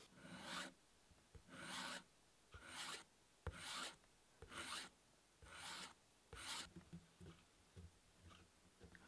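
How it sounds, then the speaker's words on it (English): Sanding the pointy edges of a custom-built guitar, a close rasping rub repeated in about eight even back-and-forth strokes with short pauses between, loud and alone. "we're gonna sand down some of these edges up here"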